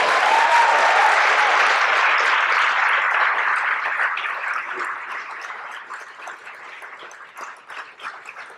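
An audience applauds loudly, a dense wash of clapping that gradually thins and fades over several seconds into scattered claps.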